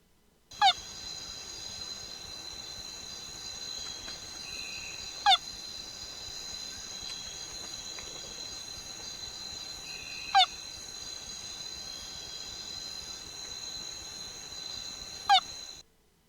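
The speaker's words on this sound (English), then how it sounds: "So that's the frog before before the frog made any adjustment with the resonant frequency" A frog calling from inside an experimental tree hole, giving four short, evenly spaced calls about five seconds apart over a steady hum of background noise.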